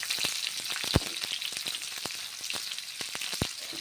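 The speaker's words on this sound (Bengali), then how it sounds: "ভেজে নিচ্ছি পেঁয়াজ, নেড়ে চেড়ে ভেজে নিচ্ছি" Onions fry in hot oil with a steady crackling sizzle, while a spoon stirs them and taps against the pan in irregular sharp clicks, close and alone.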